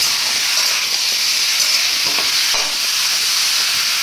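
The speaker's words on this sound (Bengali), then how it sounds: "চলো মাংসগুলো ভেজে আমি আগে তুলে আনি" Chicken pieces sizzle steadily in a hot frying pan, a loud, continuous crackling hiss with occasional faint stirring clinks, close and without any voices.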